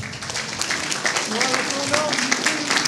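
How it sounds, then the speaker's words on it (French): A church congregation applauds in praise, scattered clapping mixed with voices and singing over a few seconds. "On applaudit le Seigneur."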